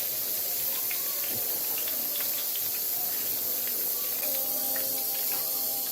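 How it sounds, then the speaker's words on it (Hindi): Chapli kabab patties sizzling in hot oil in a pan on a gas stove, a steady close hiss and spatter with faint crackles, no talk. "ऑयल गर्म हो गया, तो अब शामिल कर देंगे कबाब"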